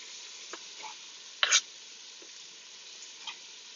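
Onions and bacon sizzle in a frying pan at the start of a beef stew, a soft, steady frying hiss broken by a few sharp pops and stirring clicks.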